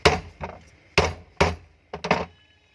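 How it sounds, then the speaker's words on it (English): Hammer blows on a stuck ceiling fan, six sharp knocks in an uneven rhythm, some paired closely, loud and close with brief ringing decay and no talk. "We use hammer."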